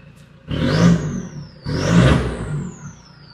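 Two loud revs from a 2012 Toyota Innova 2.5 V diesel with modified exhaust, each rising then falling over a steady idle, followed by a high fading turbo whistle.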